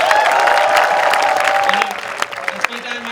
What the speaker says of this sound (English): big round of applause for Sophia